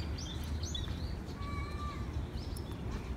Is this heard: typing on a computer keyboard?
no